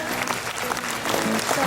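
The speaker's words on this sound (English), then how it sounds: "please give them a big round of applause" Crowd of parents at a school awards ceremony gives loud, continuous applause, with voices mixed into the clapping throughout.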